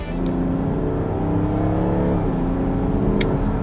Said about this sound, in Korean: 컴포트에서도 엑셀을 조금만 깊게 밟으면은 이게 금방 튀어나가네.